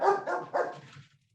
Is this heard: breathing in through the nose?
no